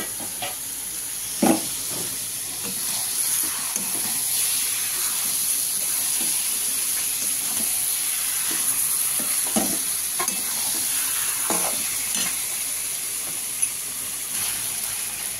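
Chicken is stir-fried in a pan with boiled chickpeas about to be added, giving a steady sizzle and hiss of frying, with occasional scraping and stirring clatters over a long unbroken stretch.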